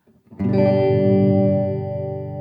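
A sustained electric guitar chord through an MXR Layers sustain pedal rings out with a fast attack and long, slowly fading sustain, thick with processed effect harmonics.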